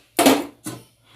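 Pot of rice set down on a stove, two close metallic clanks with short ringing tails, the first louder than the second, in a quiet room.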